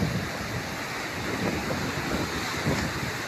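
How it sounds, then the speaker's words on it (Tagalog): Large ocean waves roll onto the shore in a steady, roaring wash of surf, with wind buffeting the microphone and no talking. "pagbagsak ng alon dito sa gilid oh"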